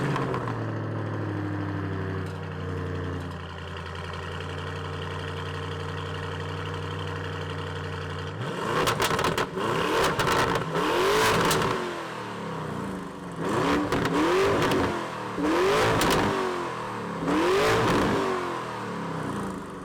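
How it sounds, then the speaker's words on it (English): A 2024 Lamborghini Urus S with a racing exhaust idles with a steady low rumble, then revs hard in several loud, close bursts, each blip rising and falling, with no talking. "You also have the racing exhaust, which this car has, and it sounds amazing."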